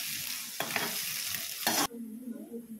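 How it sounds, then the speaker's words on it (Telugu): Onions frying in a pan for a broad bean (chikkudukaya) curry, a close steady sizzle with a few louder scraping stirs, the hiss dropping away abruptly near the end to a quieter bubbling. "ఉల్లిపాయలు చాలా దోరగా వేయించుకుందాము."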